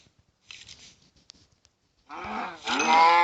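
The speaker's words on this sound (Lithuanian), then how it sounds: "Tai karvė." A cow moos twice in the Minecraft video game, a short low call followed by a louder, longer one near the end, after some faint clicks and footstep-like game sounds.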